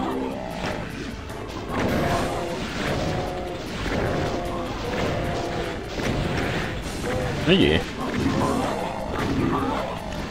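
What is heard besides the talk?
exploding barrels in the video game Doom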